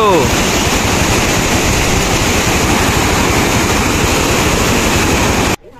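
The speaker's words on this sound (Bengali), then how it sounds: "এখানে বাঁধটা ভেঙে গেছে, তাই এক সাইডে পানি এক সাইডে বের হচ্ছে। তো এইখানে যে পানির স্রোত আর যে শব্দটা হচ্ছিল সেটা শোনো তোমরা একটু।" Water rushes through a broken embankment in Khulna, a loud, steady roaring wash that fills the whole stretch before cutting off abruptly.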